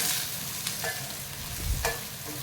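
Onions frying in a small kadai, a steady broadband sizzle with a couple of brief scraping stirs, close and moderately loud, no voices.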